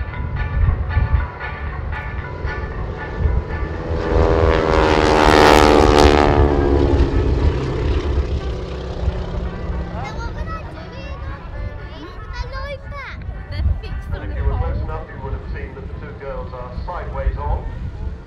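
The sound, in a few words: Breitling Wingwalkers propeller aircraft in a stack flypast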